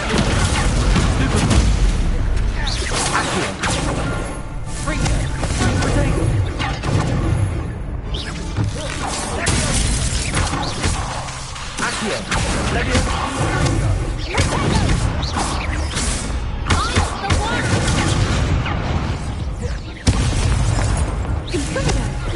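Repeated booming fire-spell blasts and crashes in the Hogwarts Legacy video game, loud and dense throughout, layered with game music and a brief voice.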